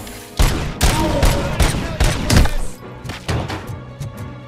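A video game shootout produces roughly eight or nine sharp, loud gunshots in an uneven, rapid sequence, each a punchy crack with a short tail.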